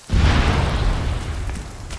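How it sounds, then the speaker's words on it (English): A loud, booming explosion in the video game Arma 3 bursts in and its low rumble lingers, slowly fading over a couple of seconds with no voices. "on the way there I hear a giant explosion"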